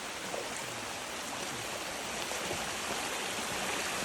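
A small village stream running full with rainy-season water gives a steady, dense rushing wash that stays even throughout, with no voices.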